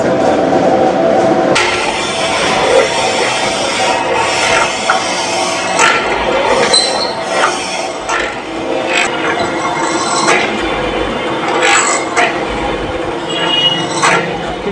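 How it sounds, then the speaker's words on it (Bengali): A chisel mortiser machine cuts wood for a door in a furniture workshop, a loud continuous grinding clatter with repeated knocking strikes throughout, close and dense. "এই মেশিনের নাম হলো সিজেল মেশিন।"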